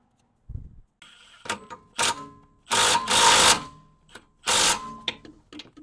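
Short, sharp mechanical bursts of a nut being tightened on the rear brake of a Kia Sedona, several separate clattering runs with quiet pauses between them, close and alone.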